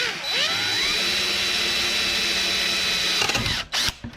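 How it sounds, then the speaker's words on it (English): A power drill bores out metal fan screws in one continuous loud whine that shifts in pitch as the bit bites, then tapers off with a short stutter near the end. "what we're going to do is we're just going to drill these out"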